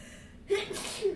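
A single sharp sneeze bursts out mid-conversation in an indoor tabletop game session, a quick intake followed by an abrupt, close explosive burst.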